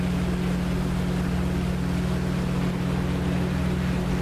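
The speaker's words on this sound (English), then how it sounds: "they've hit one of my engines. Can you hear it racing?" A damaged aircraft engine races in the DCS flight simulator, a steady loud drone with a strong low hum and broadband roar, unbroken and continuous with no voices.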